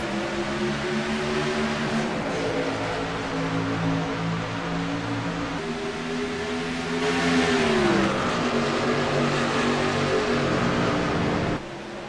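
Racing trucks at Atlanta pulling away at the green flag after the pace car leaves, several engines roaring together with pitch rising and dipping as they accelerate, loud and close, then cutting off abruptly.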